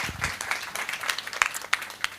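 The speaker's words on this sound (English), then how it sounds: "Give him a round of applause, everybody." Scattered applause from a small audience at a Heritage Month roundtable at Freedom Park, with light uneven claps and a few sharper individual hits.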